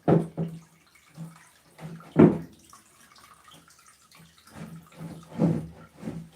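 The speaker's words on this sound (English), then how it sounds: "I'm going to try to drain the water as much as I can." Water drains from a cooking pot in a home kitchen in irregular bursts of pouring and splashing, several short gushes separated by quiet gaps, with no talk.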